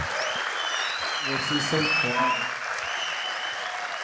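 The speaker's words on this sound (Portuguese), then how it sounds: "Essas palmas a gente pagou para eles fazerem aí" Studio audience applause on a live show in São Paulo, a steady wash of clapping throughout with a voice speaking briefly over it in the middle.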